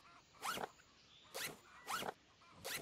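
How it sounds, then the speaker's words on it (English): Zipper-like crunch of stones being broken by hand in a survival video game, four quick rasping bursts in steady rhythm, fairly close and moderately loud with no talk over them. "Oh, it's like a zipper."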